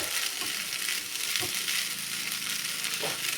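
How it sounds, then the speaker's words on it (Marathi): Soaked sabudana stirred into a hot pan with ghee, steady bright sizzling with a few soft scraping stirs of the spoon, close and alone. "आता यामध्ये जो आपण साबुदाणा घेतलेला आहे हा घालून घ्यायचा भिजवलेला साबुदाणा छान मिक्स करून घेऊया"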